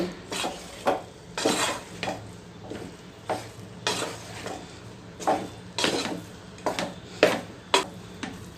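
A spoon scrapes and clinks rhythmically against a pan while gojju avalakki, spiced beaten rice, is mixed evenly, repeated strokes close up with a faint sizzle underneath.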